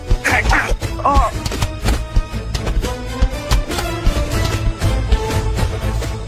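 Heavy thuds and whacks land in irregular bursts as someone is beaten in a college confrontation, loud and close, mixed with scuffling, with no clear speech over them.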